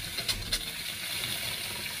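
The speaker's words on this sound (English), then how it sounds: "The water's now back on. Let's get rid of any air in the pipe work." Water runs through a newly replaced kitchen tap as the supply comes back on, a faint steady hiss of flow with a couple of soft spluttering bursts near the start as air clears from the pipes.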